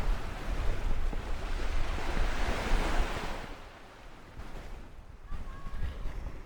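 Strong outdoor wind buffets the microphone with a loud, rushing rumble that swells, eases for a moment, then gusts again, giving a continuous roar near the mic.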